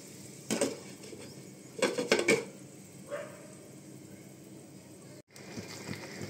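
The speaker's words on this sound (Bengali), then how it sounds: "এটাকে আমি এবার কভার করে দেব" A lid is set over a pot of marinated desi chicken cooking on a medium flame, with a few faint metallic clinks and clanks over a quiet background hum.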